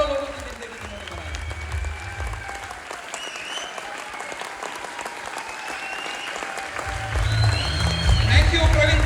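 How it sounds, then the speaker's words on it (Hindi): Standing ovation at a motivational direct-selling speech event: a large crowd claps loudly and continuously for nine seconds over background music, with cheering voices mixed in and the applause growing heavier toward the end. "जोरदार ताली, जोरदार ताली, जोरदार ताली, खड़े होकर ताली, सबने ताली बजाना चाहिए दोस्तों"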